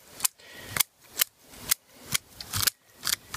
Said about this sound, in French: on va tailler. Alors vous prenez des ciseaux ou normaux ou alors des longs.